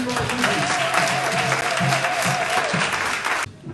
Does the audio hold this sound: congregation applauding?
yes